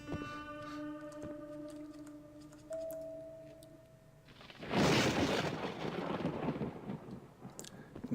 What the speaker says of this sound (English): Nice, ominous thunder.